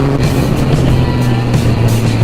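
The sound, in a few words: Yamaha MT-09 motorcycle with Akrapovic exhaust revving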